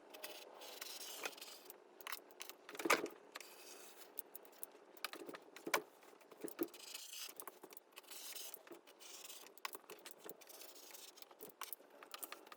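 Scissors cut through a woven throw blanket, producing faint, close snips and fabric rustles scattered irregularly across a quiet background.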